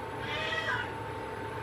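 A pet cat meows in a home kitchen while a meal of nachos and ambrosia salad is being cooked, one drawn-out mew near the middle, heard over steady room noise.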